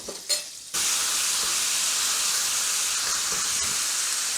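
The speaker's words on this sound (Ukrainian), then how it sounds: "М'ясо обсмажуємо до гарного кольору." Steady, loud sizzling of beef frying in oil and butter in a pan for beef stroganoff, a continuous hiss after a brief quieter start.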